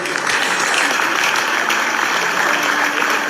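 A church congregation applauds in praise, a dense, steady wash of clapping that holds at even loudness throughout.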